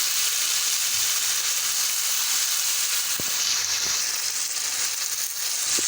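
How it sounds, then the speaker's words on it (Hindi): Chicken and chana masala frying in oil in a pan, a loud, dense, continuous sizzle with a couple of faint clicks, steady throughout and without voices. "ऑयल डालने के बाद हम इसको 2 से 3 मिनट के लिए अच्छे से फ्राई करेंगे"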